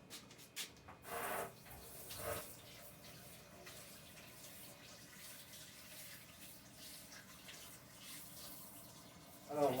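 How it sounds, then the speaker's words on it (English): Hands rinsed under a running tap in a home kitchen during biscuit baking, a steady broadband wash of water with faint rubbing, quiet and close, with a brief louder splash near the start and end. "So I'm gonna rinse my hands."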